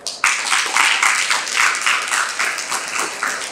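A poetry recital audience claps loudly and close, the applause pulsing in a steady, almost rhythmic beat for a few seconds without any voices.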